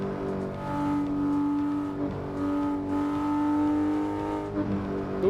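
Engine of a truck driven in the racing simulator Assetto Corsa revving steadily, a loud sustained drone rising and falling in pitch throughout, with a brief dip near the end.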